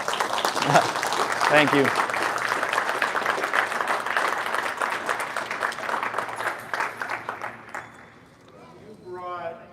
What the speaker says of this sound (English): You should clap first.